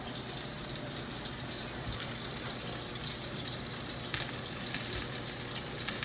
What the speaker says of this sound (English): we're just going to sear these all the way around all sides until everything is done